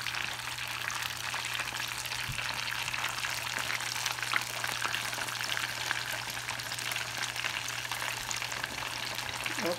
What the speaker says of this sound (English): they only take a few minutes to fry up